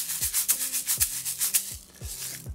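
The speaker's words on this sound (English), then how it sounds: "And this one has some small metal ball bearings inside of it," Close, steady shaking of a paper shaker holding small metal ball bearings produces crisp, bright hissing rattles with sharp knocks on each stroke, about eight even beats that thin out near the end.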